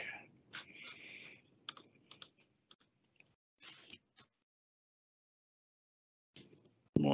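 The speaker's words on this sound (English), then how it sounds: "In this case, what I'm doing is typing in" Typing on a computer keyboard during a demonstration of a Windows digital signage appliance: irregular bursts of close, crisp key clicks with short pauses and a long silent gap, ending in one louder thump.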